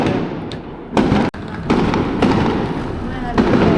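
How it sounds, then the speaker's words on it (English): Daytime fireworks burst in Beirut with several sharp, loud cracks and booms at irregular intervals, echoing through the city streets while people talk nearby. "The guy told me it's fireworks"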